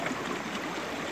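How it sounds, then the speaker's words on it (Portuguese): Floodwater rushes down a swollen river after heavy rain near Caparaó on the border of Minas Gerais and Espírito Santo, a continuous broadband roar at moderate level with no voices. "Olha, muita água para estar descendo ainda."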